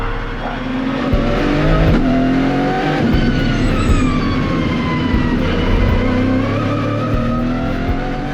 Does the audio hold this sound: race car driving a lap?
yes